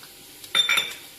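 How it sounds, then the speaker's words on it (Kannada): Mustard seeds frying in a pan over a low flame, a brief burst of crackling sizzle that rises suddenly and fades within a second, close by and alone. "ಸಣ್ಣ ಉರಿಯಲ್ಲಿ ಲೋ ಫ್ಲೇಮಲ್ಲಿ ಇದನ್ನ ಫ್ರೈ ಮಾಡಿ. ಈಗ ಸಾಸಿವೆ ಹಾಕಿ."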